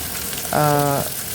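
Chopped onions and home-crushed ginger-garlic hit hot oil in a pan and burst into a loud, sustained sizzle that swells and then eases off, with no speech over it.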